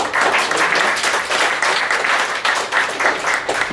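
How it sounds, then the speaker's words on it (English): An audience at a business leaders' talk on blogging claps steadily, a full, sustained round of applause from a sizeable crowd indoors, loud and close throughout. "Let's give them a round of applause too."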